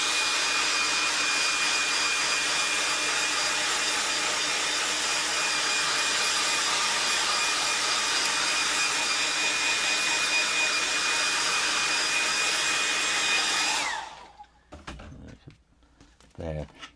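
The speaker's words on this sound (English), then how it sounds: "I'm going to get my hairdryer and make a real noise." A hairdryer blows steadily and loudly to dry a wet watercolour painting, a constant broadband roar that cuts off near the end, leaving a few faint handling sounds.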